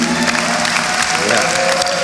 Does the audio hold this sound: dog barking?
no